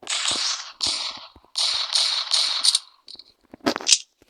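Video game gunfire in bursts, with several rapid volleys of sharp shots separated by brief gaps and a final louder burst near the end.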